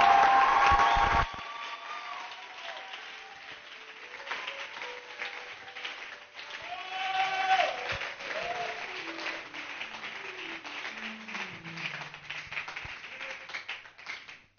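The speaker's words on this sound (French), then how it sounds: "Là, nous avons acclamé pour le pasteur Gauthier." A church congregation applauds and cheers for Pastor Gauthier. A loud burst of clapping opens, then a sustained crowd of clapping and acclaiming voices rises and falls around the room, with musical tones running underneath.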